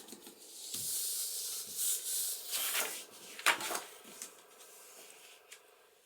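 A tool rubs and burnishes folded paper down to form a concertina pocket for a junk journal, giving several soft, dry scraping strokes close by with brief pauses between them.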